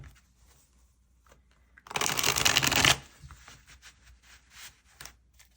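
A tarot card deck is shuffled in one dense, crisp riffling burst lasting about a second, close and fairly loud, with only faint handling rustles and quiet room tone before and after.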